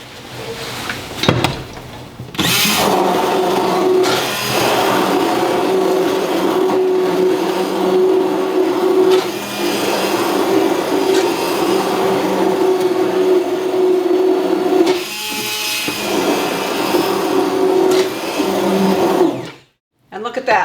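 A blender whirs steadily for most of the clip with a constant motor hum, mixing a thick barbecue sauce, pausing briefly near the end before starting again.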